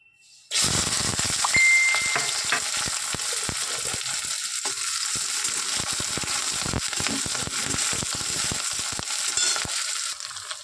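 Onions hit hot oil in a pan after a quiet start, then crackle and sizzle loudly and steadily at close range with scattered popping and occasional stirring.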